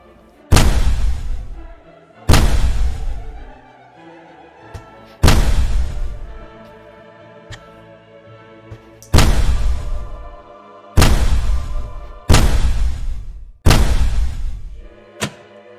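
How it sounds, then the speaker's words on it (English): Seven loud booming cannon blasts in a VR game fire one after another at uneven intervals, each with a deep thud and a ringing decay. "now, I'm gonna fire the cannons"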